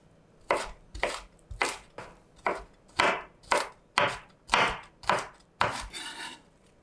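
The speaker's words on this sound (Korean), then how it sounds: "마늘은 조금 잘게 다질게요." Garlic being minced with a kitchen knife on a cutting board: about eleven crisp, evenly spaced chopping knocks, close and clear, with no talking.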